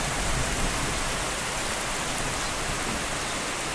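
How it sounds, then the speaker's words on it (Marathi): Heavy rain pours steadily, a dense, loud, unbroken hiss of water striking surfaces close by, with no voices. "आज चांगला जोरदार पाऊस चालू झालाय."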